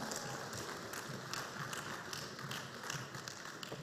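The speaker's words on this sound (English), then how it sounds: "Please, another round of applause for Mr." Sustained audience applause fills a music business conference hall after a keynote speech, a steady dense wash of many hands clapping at moderate distance, with no voices over it.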